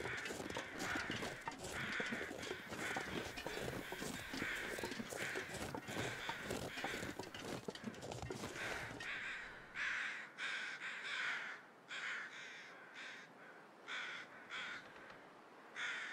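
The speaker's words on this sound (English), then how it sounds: "It's hard to tell with all these crows around too" Crows cawing in the video game The Long Dark, a repeated chorus of harsh caws overlapping densely at first, then thinning to spaced, separate calls.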